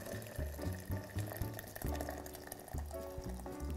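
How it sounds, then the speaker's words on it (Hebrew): Boiling water pours from a jug onto cabbage, about a liter and a half, in a faint, continuous gurgling stream with some splashing. "תביא לי את הקנקן עם המים רותחים בשתי ידיים ואני אעזור לך למזוג"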